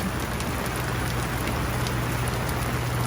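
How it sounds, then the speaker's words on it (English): Steady rain from an afternoon Florida thunderstorm falls heavily at an RV resort, a constant hiss and patter of drops on surfaces, close and unbroken, with no voices. "in true Florida style, we're having a thunderstorm in the afternoon"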